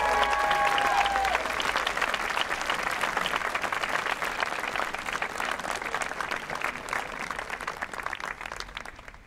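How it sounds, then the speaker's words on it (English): A middle school graduation audience gives a long, dense round of applause, loud and sustained for the whole stretch and tapering slightly at the end, with a brief voice at the start. "About a really big round of applause for James."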